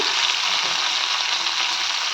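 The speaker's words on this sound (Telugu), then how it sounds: "తర్వాత తాలింపుని పప్పులో వేసుకోవాలి" A hot tempering of dried red chillies, mustard seeds and cumin is poured into moong dal with tomato, producing a loud, even hiss of sizzling throughout.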